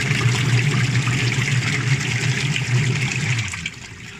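A Sharp twin-tub washing machine with a drain problem empties its water, a steady gushing, gurgling flow that runs loud and close for several seconds before tapering off.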